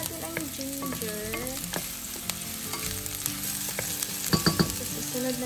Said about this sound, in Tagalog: Lutuin lang natin ang ginger.